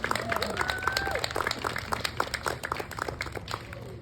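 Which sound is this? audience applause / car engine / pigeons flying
audience applause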